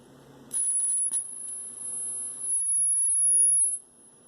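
A high-frequency plasma arc is drawn out at 100% duty, giving a thin, steady, piercing whine that holds for about three seconds before cutting off, with faint crackle underneath and no voices.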